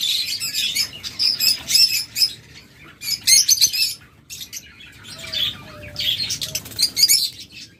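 A pair of lovebirds for sale chirps in sharp, high bursts, several quick tweets and squawks clustered in groups with short pauses between, close and clear with a faint low hum beneath.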